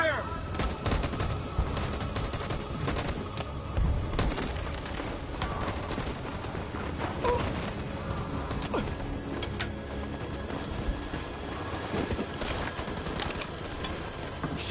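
Sustained gunfire fills a scene in the video game Detroit, dense overlapping shots and bursts crackling steadily for the whole stretch, with mechanical clatter mixed in and a few voices under the shooting.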